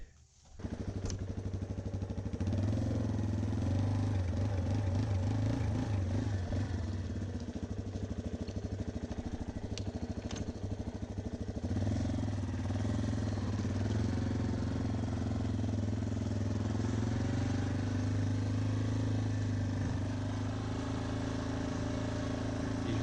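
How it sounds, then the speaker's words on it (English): A Yamaha Raptor/Warrior 350 ATV engine idles while warming up with some choke, a steady low mechanical thrum with light clatter that starts abruptly and runs on unchanged, close and loud, alone. "Might need a little choke. So we'll let her warm up for a minute."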